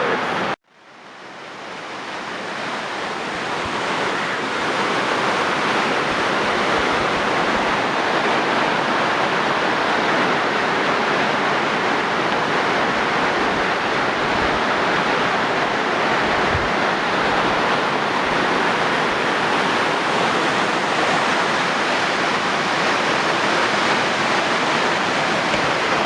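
Buttermilk Falls waterfall roaring as a steady, loud, broadband rush of falling water, continuous and unbroken from start to finish with no voices over it.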